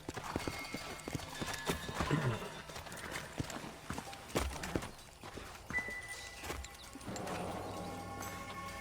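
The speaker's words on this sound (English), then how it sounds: "Let's hold up a minute and find a spot for our horses." Horses walking in the western video game Red Dead Redemption, steady clip-clop of hooves with a brief whinny, mid-distance under a busy game soundscape and faint voices.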